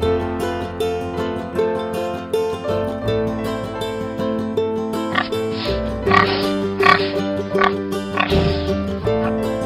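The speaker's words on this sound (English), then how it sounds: "Pig." A pig oinks and grunts in several short bursts over an upbeat children's song, the snorts rising above the steady musical backing.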